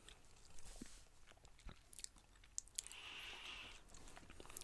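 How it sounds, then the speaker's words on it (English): Close, crisp crunching and chewing of hard candy sugar hearts, with sharp bites cracking the pieces followed by softer, wetter chewing, all without any talking. "the feeling of biting down on one of these sugar hearts"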